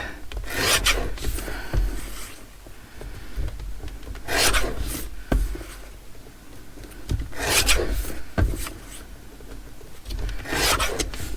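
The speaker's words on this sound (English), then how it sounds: "Just get them both trimmed down, and then we can put the trimmer away." A paper trimmer slicing through stamped art journal cards, giving repeated rasping, scraping strokes in a steady rhythm, close and fairly loud with no speech.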